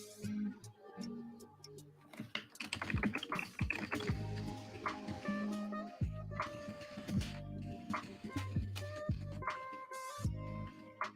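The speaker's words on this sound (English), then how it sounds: "Sorry if my keyboard's loud." Rapid clacking of a loud computer keyboard in bursts of fast keystrokes, close and crisp, with brief pauses between runs of typing.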